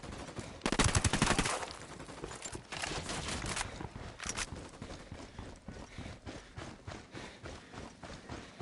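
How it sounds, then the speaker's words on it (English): Rapid bursts of automatic gunfire in the video game Ghost Recon Wildlands, dense crackling volleys at moderate distance that pause and resume, with mechanical clatter between bursts. "I'm opening fire"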